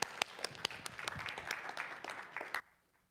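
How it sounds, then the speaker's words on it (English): A small audience claps for a singer invited up to perform, scattered individual claps building into a modest round of applause that stops abruptly near the end. "Let's give her a round of applause."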